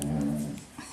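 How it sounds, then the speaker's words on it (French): A dog whimpers and gives a short growl indoors during sewing, a low whining tone followed by a brief louder burst near the end. "Et ça c'est le chien qui commente."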